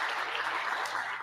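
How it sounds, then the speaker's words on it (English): An audience at a state presidential awards ceremony gives a round of applause, a short, dense, even patter of clapping heard without voices. "Join me in a round of applause again for those two groups of individuals."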